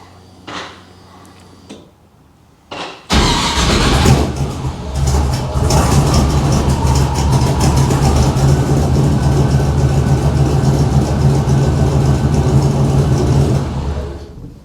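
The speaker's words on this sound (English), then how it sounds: "We'll just see if it'll cold start here." A fuel-injected car engine is cold-started after a few faint clicks and the fuel pump priming, catching abruptly and settling into a loud, steady close idle that drops off at the very end.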